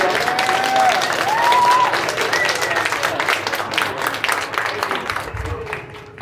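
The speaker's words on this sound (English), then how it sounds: "definitely give them a round of applause" A convention crowd applauds guests at a Killer Klowns From Outer Space panel, with loud, sustained clapping and some cheering that slowly fades, while a few voices and whistles rise over it.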